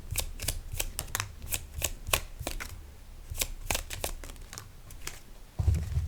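Tarot cards riffled and shuffled by hand, a run of quick crisp papery flutters in bursts, then cards slid and drawn from a deck, close and alone with no talking.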